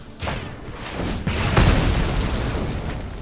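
Shivan Fire spell effect from MTG Arena, a fiery burst swelling into a broad rumbling roar that sustains loudly to the end, with a sharp whoosh near the start and no talking.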